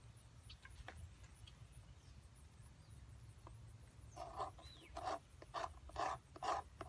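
An aged, year-old fatwood stick being scraped to strip oxidation, a few soft rasps at first, then a quicker run of sharp, close scraping strokes near the end, fairly quiet and with no talking.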